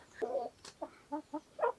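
A buff Orpington rooster a little over a year old clucks nearby in a short series of distinct throaty calls with brief pauses between them.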